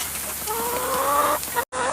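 A chicken clucks close by in a short run of tonal calls, heard alone and without talk, in an outdoor setting where a wet deer hide is being processed.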